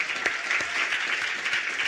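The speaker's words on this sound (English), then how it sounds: "Give him a round of applause, please." An audience at a summit's opening-night ceremony applauds with dense, steady clapping for a short stretch, filling the space evenly.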